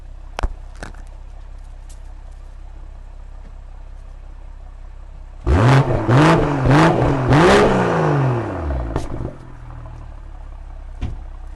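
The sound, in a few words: car exhaust engine revving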